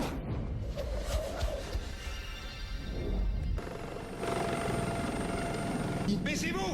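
A helicopter in a film scene thunders overhead with a heavy, continuous rotor roar, loud and close, while voices shout and talk over it; any machine-gun fire is lost in the din.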